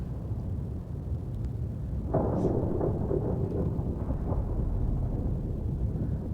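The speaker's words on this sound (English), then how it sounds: "Sounds like we have a storm up top." A thunderstorm overhead in the video game The Last Caretaker, a low steady rumble of rain with a swelling roll of thunder midway, heard from inside a ruined building.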